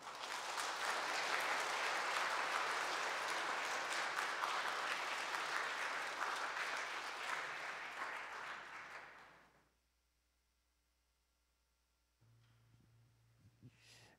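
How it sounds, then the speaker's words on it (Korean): An audience at a Catholic confirmation catechism class applauds to welcome a priest. Sustained, dense clapping fills roughly nine seconds, then fades out into near silence, followed by a faint low hum and a few small noises. "큰 박수로 모시겠습니다"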